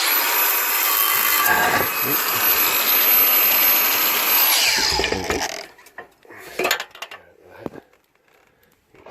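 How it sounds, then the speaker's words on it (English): Angle grinder fitted with a small stone disc cutting a concrete pan roof tile, a loud harsh grinding screech for several seconds that cuts off, followed by scattered knocks and scrapes. "I've got my angle grinder like that, a little stone disc on it"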